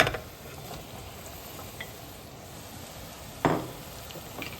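Snake gourd sizzles quietly in a frying pan, a soft steady crackle with a sharper burst of spatter near the start and another after three seconds.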